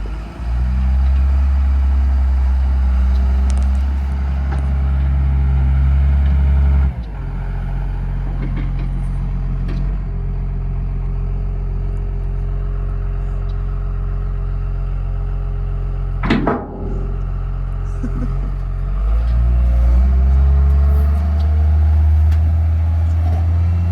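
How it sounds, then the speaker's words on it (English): Loader engine rumbling as it drives back and forth compacting dirt, a steady low drone that drops and rises with throttle changes, close and continuous with a brief clunk midway. "we swapped out the red tractor for his big brother, the loader, and we're just gonna drive back and forth for a while"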